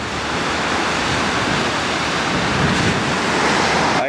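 Ocean waves on the California coast wash in as a loud, continuous roar of surf with some wind rumble, steady throughout and no voices.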